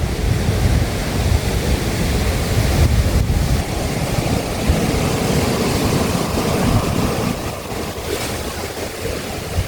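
Sea waves surging at high tide on Saint Martin's Island on a morning beside a resort, a steady loud wash of surf with wind buffeting the microphone throughout, easing slightly near the end.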